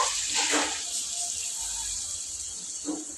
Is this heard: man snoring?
no